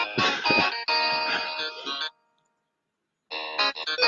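A mobile phone rings with a bright, distorted musical ringtone, played loud and close in bursts separated by a full second of silence before resuming.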